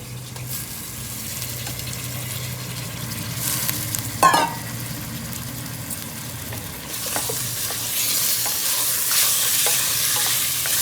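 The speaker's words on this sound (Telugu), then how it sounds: "ఇప్పుడు మటన్ వేసేసుకుందామండి." One kilogram of mutton sizzles and fries in a pan while being stirred, with scraping stirs over a steady frying hiss that grows louder and brighter toward the end.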